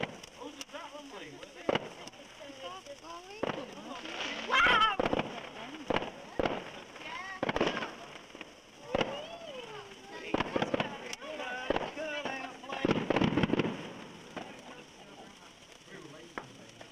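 Bonfire night fireworks burst outdoors in a series of sharp cracks and bangs, some in quick clusters, while people talk nearby and a steady hiss sits underneath.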